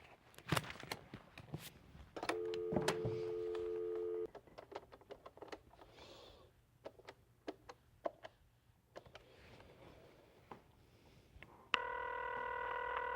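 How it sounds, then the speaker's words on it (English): A phone number is dialed as a run of short DTMF key tones, with brief beeps and clicks at irregular spacing and a sustained tone at the start and end, close and clear with no talking. "Dial the number."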